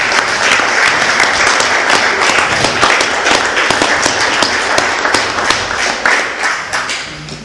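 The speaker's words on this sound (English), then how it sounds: "Give him a round of applause." Audience at a city council meeting gives an honoree a round of applause: loud, dense, continuous clapping throughout, tapering slightly at the very end.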